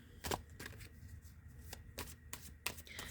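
Tarot cards are shuffled by hand at close range, giving a quiet run of crisp riffling bursts with brief pauses between them.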